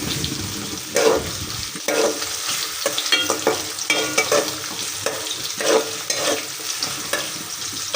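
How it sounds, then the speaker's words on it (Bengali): Onion and whole garam masala fry in a hot wok with a steady crackling sizzle, broken by repeated scraping strokes of a spatula stirring the pan. "এখানে আমি একটু পেঁয়াজ আর হচ্ছে গোটা গরম মশলা ভেজে নিতেছি।"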